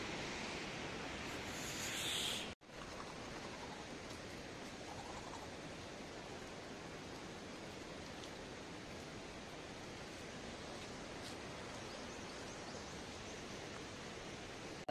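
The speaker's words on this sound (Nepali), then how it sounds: "अनि सिमसिम पानी परिरहेछ" Light drizzle falls outdoors on a morning in the Everest gateway region, a steady, soft wash of hiss that continues evenly after a brief dropout near the start, with no voices.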